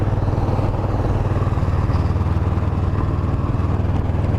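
A Kawasaki Vulcan 500 motorcycle engine runs steadily up close, a loud, continuous pulsing rumble with a faint clatter and no talking.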